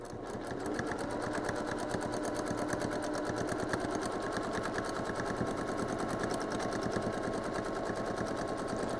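A sewing machine runs steadily through free-motion quilting of a feather design, its needle hammering in a fast, even rhythm that stays loud and close from start to finish, with no talking.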